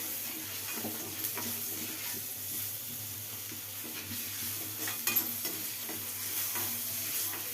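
Spices with turmeric and asafoetida fry in hot oil for a tempering, a continuous close sizzle with occasional stirring scrapes and clinks, no voices over it.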